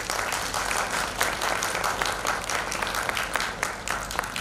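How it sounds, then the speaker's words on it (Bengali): Steady applause from an audience after a recitation performance by artist Tapas Maiti at a cultural gathering, continuous clapping at a moderate level with no talking. "দর্শকদের থেকে চেয়ে নেব অনেক অনেক করতালি।"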